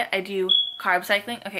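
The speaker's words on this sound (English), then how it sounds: "smoke detector's batteries are going out and it's so high up that I can't reach it" A single high, piercing smoke detector low-battery chirp sounds briefly in a pause between a person's speech, clear and fairly loud indoors.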